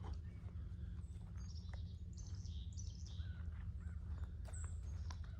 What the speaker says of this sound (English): It just got really, really quiet here, besides those crows.